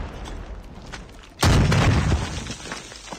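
A C4 charge detonating in a first-person shooter game: one sudden, loud, broadband blast that rumbles and decays over about a second, following quieter game noise.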